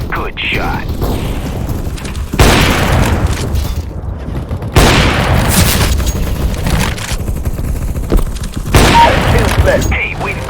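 Gunfire in Counter-Strike: Global Offensive team deathmatch, repeated loud bursts of rapid shots with mechanical clicks and reload sounds between them, close and punchy, with voices heard over the action.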